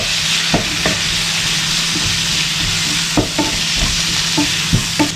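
Chopped tomatoes frying in a pan for a Ramadan nombu kanji, with a steady loud sizzle broken by sharp scrapes and clacks of a spoon stirring at irregular intervals.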